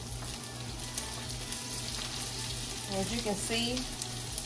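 Onions frying in a skillet while sausage and pepper jambalaya is being cooked, giving a steady close sizzle throughout with a person talking over it near the end.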